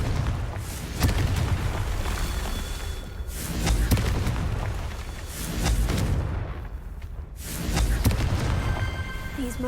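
Explosions from the Confringo blasting spell in Hogwarts Legacy, several heavy booming blasts recurring every couple of seconds, loud and close, with rumbling noise between them.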